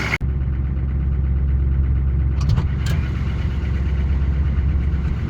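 A Buick diesel car engine runs steadily at close range, a low, continuous rumble with brief higher clatter partway through, no voices over it.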